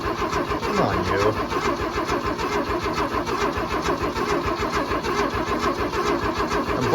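An abandoned 1979 Ford F250 engine cranks steadily on its starter with a continuous, even churning rhythm that does not catch, loud and close throughout.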